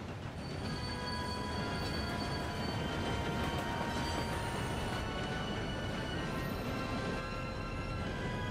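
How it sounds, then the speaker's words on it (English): A train rolls along in Red Dead Redemption 2, giving a steady, loud rumble of wheels on rails with thin metallic squealing tones held on top, continuous throughout with no voices. "I'm not at all sure that the train will have time to slow."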